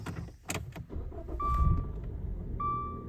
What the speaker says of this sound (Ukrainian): Давайте заведемо нашу машинку.